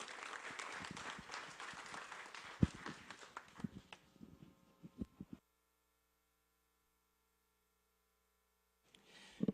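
An audience applauds after a singer performs the Italian national anthem at an Italian heritage month celebration, with dense, fairly loud clapping that thins into scattered claps and stops, followed by silence and a brief return of sound at the end.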